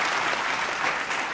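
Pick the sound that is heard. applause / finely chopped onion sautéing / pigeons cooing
applause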